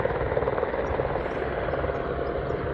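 A firefighting helicopter carrying a water bucket drones steadily at a moderate distance, its rotor chop a constant, even wash with no voices.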